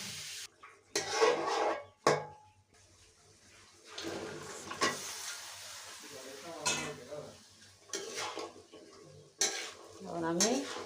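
Chicken and potatoes get stirred in a cooking pot, with close scraping, clinking utensil strokes against the metal in irregular bursts and a soft sizzle underneath, plus occasional brief talk.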